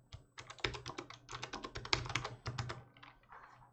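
Close keys clatter on a computer keyboard in a quick run of taps and short bursts, briefly pausing before a final softer flurry, with no talking over it.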